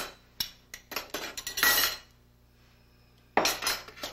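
Metal kitchen utensils, including a slotted spoon, ladles and a berry spoon, clink and clatter in close bursts, then go quiet for a stretch before another burst of rattling.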